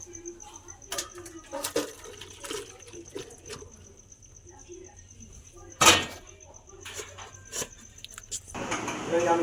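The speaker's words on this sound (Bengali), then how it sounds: "তো আমি এবার আলুগুলো জলটা ঝরিয়ে নেবো" Water drains off boiled potatoes in a kitchen, with scattered clatters and knocks, one sharp bang, and a rising pour or splash of water toward the end.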